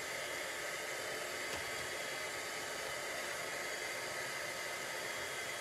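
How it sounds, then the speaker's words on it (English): A heat tool blows a steady, close, even whoosh of hot air without pause while melting embossing powder on a watercolor pencil craft piece, with no voices. "now let's melt that embossing powder"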